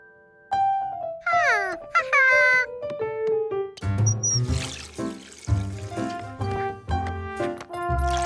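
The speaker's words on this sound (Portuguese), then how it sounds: "Agora, adicionar 1/2 xícara de água." Half a cup of water poured in a cartoon scene, a steady liquid pour running beneath bright tonal music and animated sound effects throughout.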